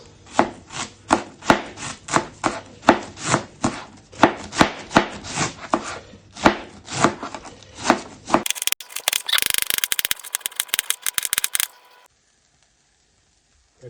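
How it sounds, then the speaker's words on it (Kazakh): A knife chops cabbage steadily on a board, sharp regular strikes for several seconds, then gives way to a rapid, dense shredding rattle before stopping. "Осы капустамызды бүлінген жерлерін алып тастаймыз. Тураймыз."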